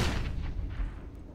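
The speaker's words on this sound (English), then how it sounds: "I'm throwing a flashbang." A flashbang grenade goes off in CS:GO, a single loud boom that decays quickly into a low rumble.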